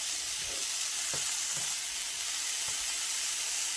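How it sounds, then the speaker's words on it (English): Diced potato seasoned with rock salt, pepper and garlic salt frying in a pan, a constant close hissing sizzle with faint scattered crackles and no talking. "Fry a potato for about 1 minute"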